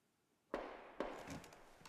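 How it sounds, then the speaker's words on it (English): Two sharp, distant gunshots from a neighbor's target practice, about half a second apart, each leaving a brief echoing tail in a quiet setting. "Those gunshots? My wacky neighbor. Nothing alarming. Target practice several times a week."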